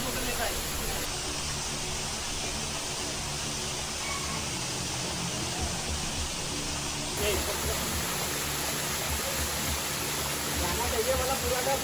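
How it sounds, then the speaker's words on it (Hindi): Three or four waterfalls cascade in sequence deep in a forest at Chhota Mahadev, making a steady, loud, broadband roar of rushing water that fills the whole stretch with no voices. "ऊपर से नीचे गिरते हुए 3 से 4 झरने सीक्वेंस में छोटा महादेव का लैंडमार्क बनाते हैं"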